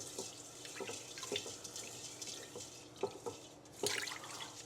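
Rice being washed under a running kitchen tap, with soft continuous water flow and small splashes and drips as grains are rinsed, faint and close.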